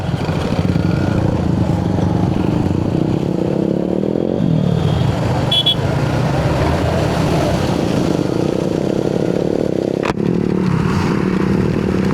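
Motorcycles ride along a double-lane road near the Padma river, producing a loud, continuous engine drone with wind rush, a shifting tone midway and a sharp clatter near the end; no voices.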